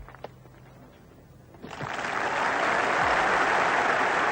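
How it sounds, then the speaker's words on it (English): Golf spectators at the 1977 Open Championship break into applause, starting from quiet murmurs and swelling quickly into loud, sustained clapping from a large crowd. "and great round of applause."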